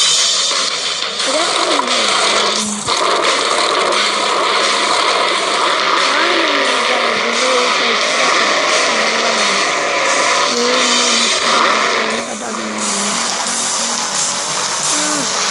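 Monster trucks roar through a drag race in a mobile video game, with loud sustained engine whine, shifting pitch and skidding tyre noise filling the whole stretch while a person talks over it.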